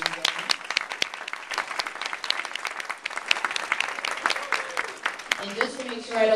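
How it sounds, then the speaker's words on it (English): Applause from a conference audience at an EPA Region 4 panel, many hands clapping continuously at a moderate level, with a voice emerging near the end as it fades. "Please give her a round of applause."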